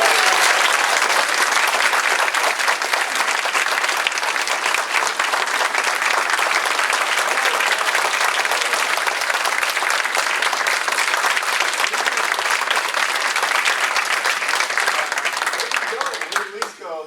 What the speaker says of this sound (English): It is my honor to present to you today